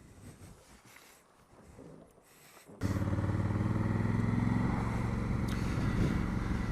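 A Honda CRF1000 Africa Twin motorcycle engine rumbles into life after a few quiet seconds, then holds a loud steady drone with rushing wind noise as the bike is ridden.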